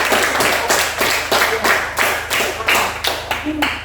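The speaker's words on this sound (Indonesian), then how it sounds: "Kita tepuk tangan dulu." Hands clapping in a classroom, a fairly loud, close round of applause with a steady string of individual claps, some voices mixed in beneath the clapping.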